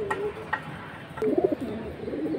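Soft, low coos from green pigeons repeat in short bursts, fairly close, with a few faint clicks and rustles in an otherwise quiet space.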